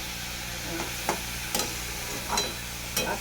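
Cabbage fries in a pan with a steady background sizzle, while a spoon stirs it in five or six separate scraping strokes spaced about half a second apart. No one speaks.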